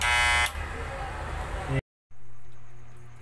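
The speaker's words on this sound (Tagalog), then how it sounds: "Yan, maingay yung clipper." A loud electric hair clipper buzzes harshly up close, cutting out abruptly for a moment before starting up again with a steady hum.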